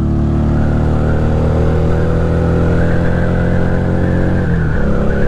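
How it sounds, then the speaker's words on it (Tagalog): A motorcycle climbing uphill in fourth gear on a clean road, its engine humming in a loud, steady drone that shifts pitch slightly near the end under light throttle. "naka 4th gear tayo, pumapanik ang motor"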